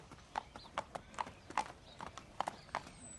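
Hooves of a young colt clip-clop in a quick, regular rhythm on a training track at a racing complex, each beat crisp and fairly faint, with no talking.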